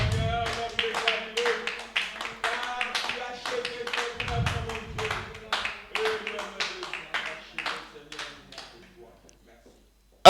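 A church congregation claps in a steady rhythmic beat, the clapping firm and fairly close, joined by singing and acclaiming voices that fade out toward the end.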